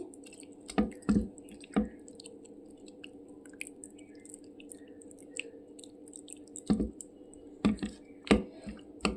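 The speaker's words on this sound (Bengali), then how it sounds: "সমস্ত মাছে আমি মশলাটা মাখিয়ে নিচ্ছি" Hands work spice paste into pieces of boal fish, making wet squelching smacks in scattered clusters, close and distinct against a quiet background.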